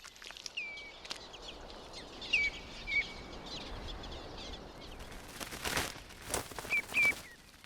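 Common redshanks calling in a wetland: several thin, piping whistles ring out at a distance against a quiet, hissy background, with a few louder rustling bursts near the end.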